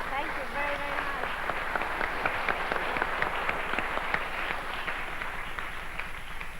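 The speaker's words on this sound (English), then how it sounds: "Applause for Natasha Tadson's playing of the Schumann Fantasiestücke" Applause fills a concert hall after a performance of Schumann's Fantasiestücke Op. 1 at a piano master class, with dense, sustained audience clapping that stays steady throughout.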